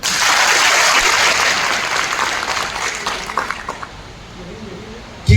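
A crowd at a speech event applauds loudly at once, a dense steady clapping that thins out and fades over about five seconds.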